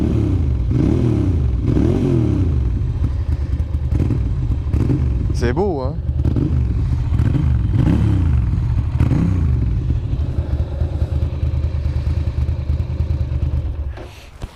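A fully restored old collector motorcycle engine runs up close. Its revs swell and fall in repeated surges with one sharp blip midway. Someone speaks French over the loud, throaty rumble.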